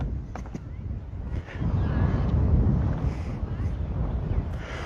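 Steady wind buffets the microphone at Sharks Cove beach on Oahu's North Shore in Hawaii, a continuous low rumbling roar with gusts swelling midway and faint voices underneath.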